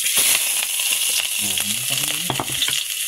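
Onions drop into a hot multi-function electric cooker and sizzle loudly and steadily, with crackling bursts and a brief low voice murmuring under the frying midway.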